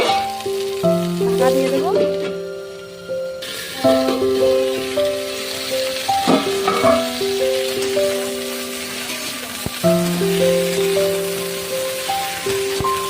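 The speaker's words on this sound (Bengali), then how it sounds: "ফুলকপিগুলো ছোটো ছোটো করে কেটে নিয়ে তেল দিয়ে আগে ভেজে নিচ্ছি।" Small-cut cauliflower pieces fry in hot oil with a steady sizzling hiss, partly masked by loud background music, and a voice speaks briefly over it.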